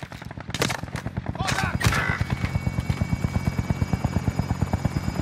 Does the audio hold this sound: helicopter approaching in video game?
yes